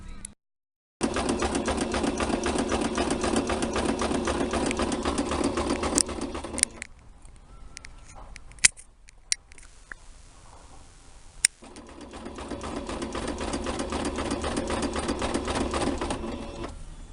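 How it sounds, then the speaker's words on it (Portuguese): A sewing machine stitches an apron in steady, fast runs, with one long burst, a pause marked by a few clicks, then a second sustained run close by. "fazer uma costura pé de máquina"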